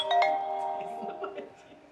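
A phone rings with a bright, tonal electronic chime that fades out over a couple of seconds, fairly quiet, with faint voices underneath.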